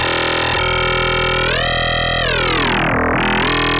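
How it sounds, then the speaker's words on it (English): A gritty FM synth tone made by phase-modulating a sine wavetable: one loud, dense buzzing note whose harmonics sweep upward, hold, then dip and recover before cutting off. "We got a really gritty FM in here."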